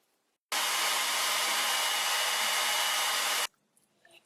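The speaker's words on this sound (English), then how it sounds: "I will speed up the drying with a heat gun." Heat gun blowing steadily for about three seconds to dry glue on a wood rot repair, a loud, even whooshing hiss that starts and stops abruptly, with quiet room sound before and after.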